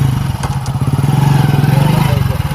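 A motorcycle engine putters with a rapid, rhythmic thump, loud and close as the bike runs along a village road, while people talk over it.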